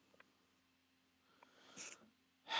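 A few faint sniffs and breaths build into a sharp, close sneeze at the end, preceded by a smaller burst a moment earlier.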